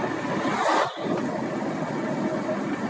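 Car driving out of Trostianets on the road, a steady mid-pitched engine hum and tyre rumble heard from inside, with a brief dip in level partway through.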